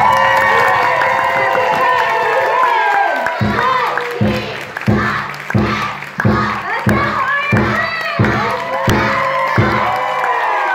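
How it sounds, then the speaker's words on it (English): An audience at a martial arts class cheers and claps after the Iron Bridge exercise, with loud crowd shouting followed by a run of sharp, rhythmic unison claps or shouts in a large echoing hall. "They're going to expect a big applause for this one"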